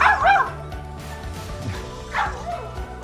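A Tombot robot puppy gives short yipping barks and a whimpering whine, two bright bursts separated by a quieter stretch with faint background noise.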